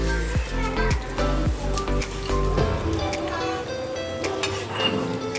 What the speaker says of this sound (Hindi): तो दूसरी तरफ यहाँ पर कबाब फ्राई हो रहे हैं।